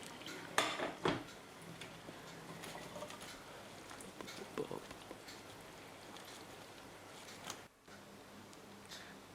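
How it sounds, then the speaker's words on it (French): Cooked ravioli are drained, water splashing and pattering through a strainer into a sink with clinks of metal cookware, close and fairly quiet, the steady rain-like patter continuing under a few sharper knocks. "une fois que les pâtes sont cuites, enfin les ravioles plutôt, on les prend et on les égoutte"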